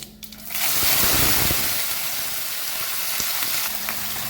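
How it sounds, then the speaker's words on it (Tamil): Brinjal pieces dropped into hot oil for pickle burst into a loud, steady hiss that fills the kitchen after a brief quiet start, crackling continuously with small pops. "இது கத்திரிக்காயை நல்லா எண்ணெயில் வதக்கிக்கலாம்"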